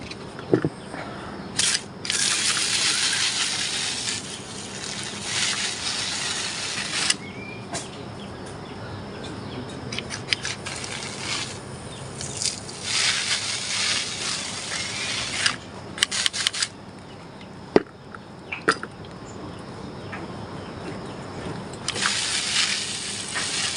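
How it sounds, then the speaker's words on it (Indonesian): A pump sprayer mists grape vines in bursts of hissing spray, alternating with quieter pauses, with occasional rustles and knocks among the leaves close by. "tinggal kita semprot ke seluruh bagian dari pohon anggurnya ya"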